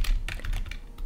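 Computer keyboard shoved aside right beside a microphone during a live stream, a quick series of close, loud clacks and scrapes with low thumps, no talk.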